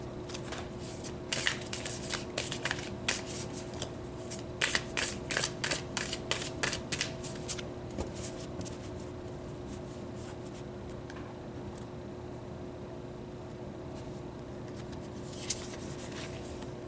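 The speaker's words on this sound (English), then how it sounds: "So let's pull some more cards here." Tarot cards are shuffled and pulled during a reading, giving quick papery riffles and soft slaps in bursts through the first half, then sparse faint rustles, close and quiet with no talking.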